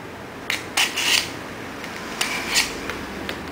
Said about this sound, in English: The sharpening function can also be used on knives and scissors.